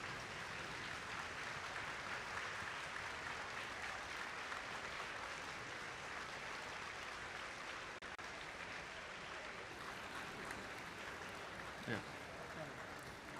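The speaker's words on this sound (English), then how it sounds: "stand up and clap and applaud your coaches and mentors" A crowd of students stands and applauds their robotics coaches and mentors at a district competition event, a sustained, even wash of clapping heard from a distance through an overhead feed in a large hall.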